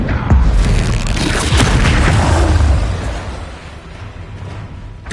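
The Depulso spell is cast in Hogwarts Legacy, a loud booming blast with a rumbling burst that swells and holds for a few seconds before fading, with no talk.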